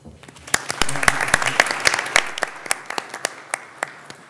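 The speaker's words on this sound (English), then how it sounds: "So I'd like to give you a round of applause since you're here in person." A small group in a University of Houston Board of Regents meeting room gives a round of applause for visiting peer reviewers, distinct close claps building quickly then thinning into scattered individual claps.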